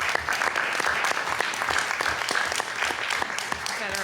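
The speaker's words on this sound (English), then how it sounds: "I'm going to give you a little round of applause too" Audience applause at a school board meeting, a dense, steady patter of many hands clapping that holds at an even level from start to finish, with no speech over it.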